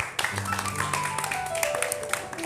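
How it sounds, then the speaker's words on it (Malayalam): Group applause rises from a crowd, a quick burst of many hands clapping together at close range, with tonal music or voices sliding underneath. "ഇത്രയും നേരം ഞങ്ങളെ കണ്ടതിന്, പ്രോത്സാഹിപ്പിച്ചതിന് ഞങ്ങളെല്ലാവരും ഒരു ബിഗ് ക്ലാപ്പ് നിങ്ങൾക്ക് തരികയാണ്"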